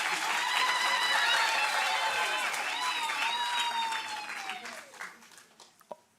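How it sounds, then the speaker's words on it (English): An audience at a ministerial announcement of national exam results applauds students with sustained clapping and cheering, overlaid by loud whistles and shouts that gradually die down to a few last claps. "Give yourself a round of applause."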